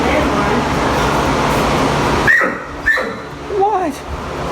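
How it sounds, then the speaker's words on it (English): Dogs in an animal shelter bark and yip in a few short bursts, fairly close, over a steady noisy indoor background with voices around them. "I hear some barkers in here."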